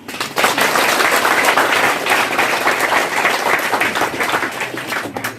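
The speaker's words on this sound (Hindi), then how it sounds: "तालियां बजा दो भाई।" An audience claps at a night-long temple jagran for Maa Baglamukhi at Morni Hills on Ashtami. The applause is loud and steady, with many hands clapping continuously from start to finish.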